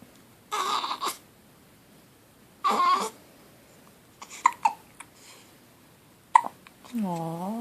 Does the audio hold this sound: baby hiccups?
yes